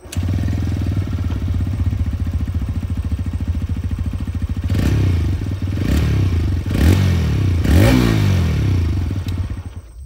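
A 2025 TVS Raider 125 kick-start motorcycle idles with a steady low exhaust thump, then the throttle is blipped several times in quick rising bursts before settling back to idle, with no talking.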